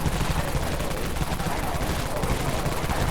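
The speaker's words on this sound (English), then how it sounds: "Here is the Dawn Minigun, my friends" The Dawn Minigun in the zombie shooter Dead Frontier fires as a dense, continuous roar of rounds, steady and loud with no break for the whole stretch.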